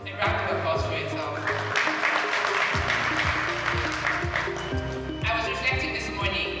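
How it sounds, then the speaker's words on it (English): A conference-room audience applauds steadily throughout, a dense, loud patter of many hands over a rhythmic music bed, with a brief dip near the two-second mark. "A round of applause for yourself."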